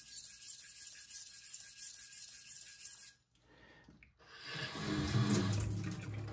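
A Suehiro whetstone is rinsed under a running tap: a steady, close rush of water runs for about three seconds, stops briefly, then resumes fuller and louder to the end, with no talking.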